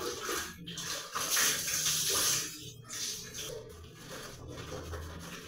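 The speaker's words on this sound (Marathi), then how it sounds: "या नळाने पाणी घेऊन आंघोळ करायला लागतं बादलीमध्ये." Tap water gushes steadily into a bucket filled for a bucket bath, a continuous close, splashing rush with no talk over it.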